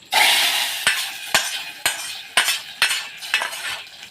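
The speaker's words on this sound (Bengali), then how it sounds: "ডালে দিয়ে দিলাম ফোড়ন" Whole cumin tempering hits matar dal with a loud hot sizzle, then a spoon stirs through the pot in a steady rhythm of clinks and scrapes against the metal as the hiss fades.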